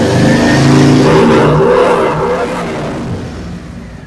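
A Harley-Davidson motorcycle engine with new head pipes revs loudly to around 4,000 RPM, a close, dense roar that holds steady then eases slightly as it settles, with no talking.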